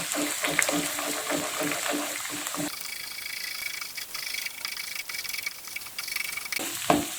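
Scrambled eggs, two or three, stirred in a frying pan give soft sizzling and scraping under a person talking, with a brief clatter near the end.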